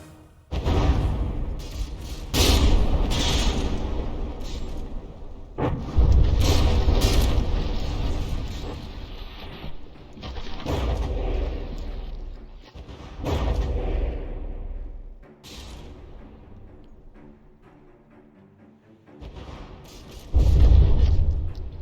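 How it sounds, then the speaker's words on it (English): Heavy naval guns from battleships trading broadside fire in From the Depths, a run of deep, loud booms every few seconds, each swelling and rolling off into a long rumbling decay, with no talk. "Both ships sailing broadside to one another, just unloading their shells"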